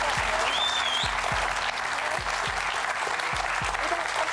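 A Deal or No Deal studio audience claps in a dense, steady wave of applause lasting several seconds, loud and continuous, with a faint voice briefly underneath.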